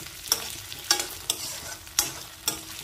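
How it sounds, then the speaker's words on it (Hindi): Potatoes and onions frying in a pan: a steady hiss of hot oil, with about five crisp spatula strokes spaced out at a loose, slow rhythm, heard up close. "अब आलू को भी फ्राई करेंगे।"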